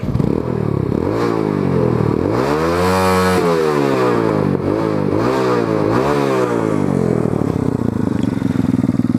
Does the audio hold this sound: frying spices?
no